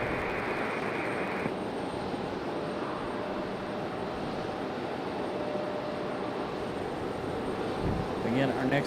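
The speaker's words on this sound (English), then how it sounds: "This one headed back to Fort Lauderdale on this A321neo." Airbus A321neo jet airliner at Raleigh-Durham airport, a steady broadband engine roar that holds evenly throughout with a brief higher whine early on, swelling slightly toward the end.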